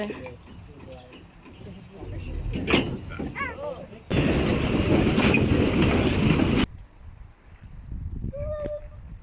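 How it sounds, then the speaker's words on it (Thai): A wood-fired antique steam train runs on the rails, with a loud, dense burst of rumbling, hissing noise in the middle and lighter rail clatter around it, amid background voices. "จะเป็นรถ รถไฟที่ใช้ การจุดไฟหรือการใช้ฟืนนะคะ"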